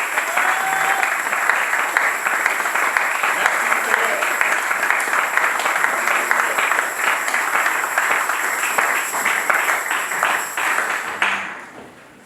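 A church congregation bursts into loud, dense applause lasting about eleven seconds, with many hands clapping together before the sound cuts off abruptly.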